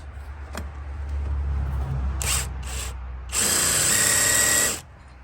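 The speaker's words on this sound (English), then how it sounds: "I'm gonna try to use my hammer drill" A hammer drill whirs in short bursts on a Mercedes exhaust manifold nut, two quick pulses followed by a longer, louder high-pitched run that stops abruptly.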